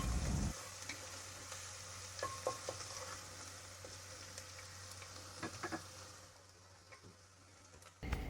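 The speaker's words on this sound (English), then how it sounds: "The oil is hot now, so I'm putting the garlic in it." Garlic hitting hot extra virgin olive oil in a pan, a loud initial splash giving way to a steady quiet sizzle with scattered crackles and ticks, ending in a brief clatter.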